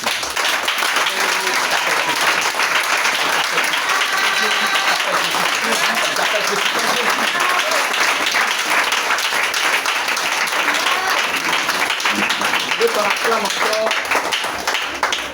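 A church congregation bursts into sustained applause, continuous dense clapping filling the room from start to finish with some voices mixed in.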